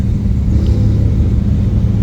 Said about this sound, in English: there is still a lot more cars pulling up